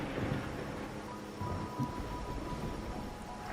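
Steady rain with low rumbling thunder in the video game Wuthering Waves, a dense continuous wash of falling water with a faint tonal hum behind it and no talking.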